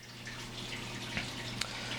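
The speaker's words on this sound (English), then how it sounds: "The water's coming in from the overflow there, coming back out the return nozzle there." Water trickles steadily through an Oceanic Reef Ready aquarium sump beneath a 75-gallon tank, fed from the overflow, making a constant soft rushing splash with a low hum and a couple of faint drips.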